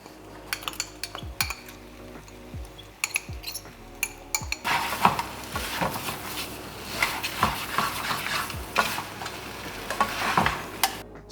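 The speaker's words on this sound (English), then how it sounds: "Just added in the pasta, mix it around, and then add in the pesto." Pasta is tossed in a pan with pesto for a vegan high-protein dish: utensil clinks and scrapes against the pan come first, then a denser stretch of stirring with a soft sizzle and repeated metallic taps.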